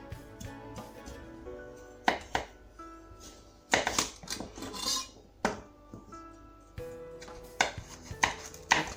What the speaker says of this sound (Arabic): On va couper notre carotte.